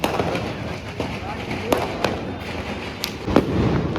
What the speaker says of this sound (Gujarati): ફટાકડા ફોડીએ છીએ અમે